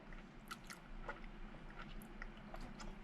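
Close, crunchy chewing of mashed potatoes topped with Cheetos and cheese, with repeated crisp bites and squishy mastication over about three seconds, heard alone with no talking.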